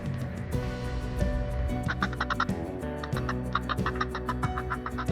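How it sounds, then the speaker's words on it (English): A seabird colony of gannets, fulmars and puffins nesting on a cliff wall: loud, repeated squawking and cackling calls close at hand, thickening partway through over a steady droning background. "The most abundant bird species are gannets, fulmars and puffins."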